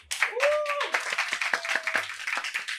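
Studio audience at a political youth talk show claps in a loose, uneven patter while voices and cheers ride over it.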